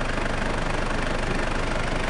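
A 2005 Mitsubishi Montero 2.8-litre turbo diesel with intercooler idles close up, a loud, steady, rumbling clatter with no breaks.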